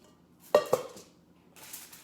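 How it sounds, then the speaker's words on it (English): A spaghetti pot clanks twice in quick succession as it is handled in a kitchen, two sharp close metallic knocks followed by a softer rustle. "I have a spaghetti pot."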